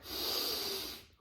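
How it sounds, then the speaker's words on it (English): A sharp, forceful breath gasp after a head dunk in a cold plunge, a single loud, hissing inhale-exhale lasting about a second, close and alone before fading. "definitely kicks on that gasp reflex"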